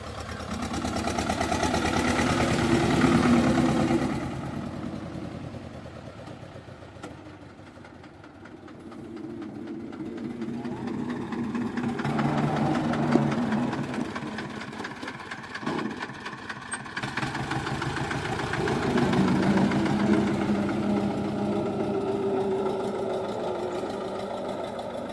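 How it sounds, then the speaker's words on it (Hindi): An HMT tractor engine drones steadily and close while pulling a Swift car on a tow chain, its loudness swelling and easing in slow waves with no talk. "देखिए ट्रैक्टर किस प्रकार खींचता हुआ जा रहा है।"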